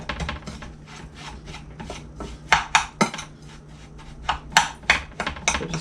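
Butter being worked into dough in a greased dish, with scraping and clinking strokes in an uneven rhythm. Several sharper knocks and rubs stand out in the middle and toward the end, and no voice is heard.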